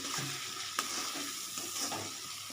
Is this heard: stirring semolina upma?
yes